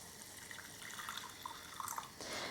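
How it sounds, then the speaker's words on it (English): Hot water is poured into bubbling turmeric tea on the stove, giving a soft steady trickle and splash with faint bubbling. It sounds quiet and close, with no voices. "we're just going to add hot water to it."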